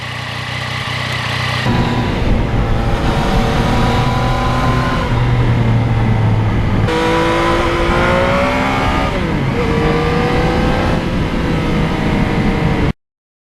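A 2020 Yamaha MT-09 motorcycle fitted with a Yamaha plug-in quick shifter accelerates hard through the gears. The loud, close engine note climbs steadily, drops sharply at each quick upshift, then climbs again, with no voices.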